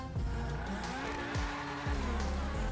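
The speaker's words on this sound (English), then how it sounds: "the number 1 fastest top speed HSW vehicle is of course the Grotti Italia GTO Stinger TT" Grotti Italia GTO Stinger TT sports car from GTA Online with the HSW upgrade, engine revving steadily with rising and falling gear-shift sweeps and tire squeal, loud and close throughout.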